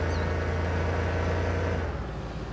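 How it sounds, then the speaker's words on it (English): A pickup truck engine drives along in Farming Simulator 2019, a steady low motor drone that holds evenly and eases off slightly near the end, with no talking. "This truck's probably loud."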